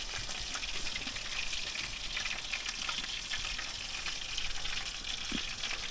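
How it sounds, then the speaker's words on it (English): Tortilla shells toast in a pan over a wilderness cookout in northern Canada, giving a soft, steady sizzle and crackle with tiny pops and no talking. "we're toasting up some tortilla shells here"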